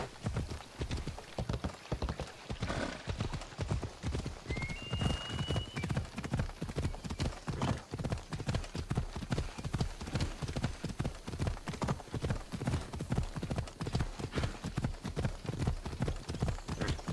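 Steady clip-clop of a horse's hooves at a gallop in Assassin's Creed Odyssey, a fast even rhythm running throughout, with a brief whinny early on; no speech.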